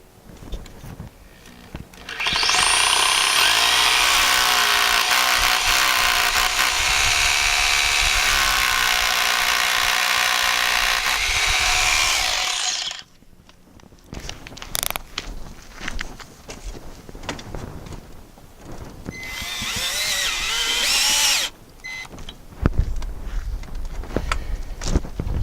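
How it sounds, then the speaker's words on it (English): A power drill drives the top screw into an electrical panel during a circuit panel upgrade, a loud sustained whir for about ten seconds, then a shorter second burst amid clattering handling and knocks. "So I'll put that screw in,"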